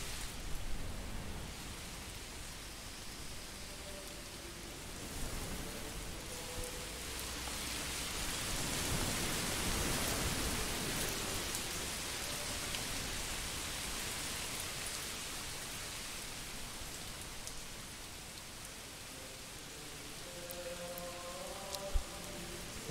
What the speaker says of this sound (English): We might need to speed the time up so the rain stops.